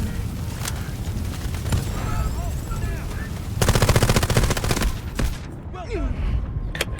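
Gunfire in the video game Delta Force Hawk Ops: rapid automatic bursts and single shots over a dense rumble of game noise, with a loud sustained volley in the middle and someone talking over it.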